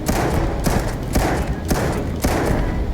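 Repeated heavy thuds of bombs going off in Starfield, about five dull booming blasts at roughly even intervals, loud and close over a dense rumbling backdrop.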